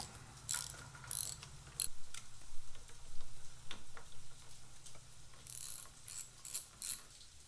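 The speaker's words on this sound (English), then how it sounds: "go ahead and remove these two torque bolts on the handlebar clamp" Ratchet clicks in quick bursts as Torx bolts are loosened from a Harley-Davidson motorcycle's handlebar clamp, close and fairly faint, with brief pauses between runs of pawl ticking.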